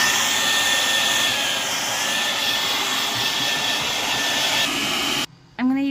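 A steady, loud rushing whir of a hair dryer blowing close by, cutting out abruptly near the end.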